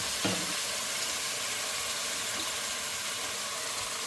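Chicken tinola being stirred in a pot with sautéed spices, a steady soft sizzle and frying hiss with light scraping and a brief clatter near the start, continuous and fairly close.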